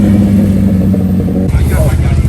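A heavily modified, locally built motorcycle rumbles loudly and revs at a bike event with burnouts and stunts, its engine throbbing close by under someone talking.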